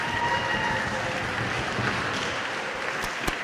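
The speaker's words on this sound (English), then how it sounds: "So a round of applause for everybody." Sustained audience applause at an awards event, a steady dense wash of many hands clapping throughout, fairly loud and even, with no clear voices on top.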